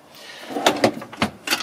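A motorhome cutlery drawer slides open with a few short wooden knocks and rattles, close by, in an otherwise quiet room.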